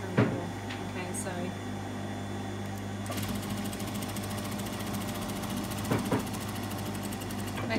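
A domestic sewing machine stitches a dart in a woven dress, running steadily with a fast mechanical whir, close and moderately quiet, with a few clicks and low background hum.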